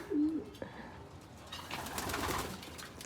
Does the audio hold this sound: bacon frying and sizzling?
no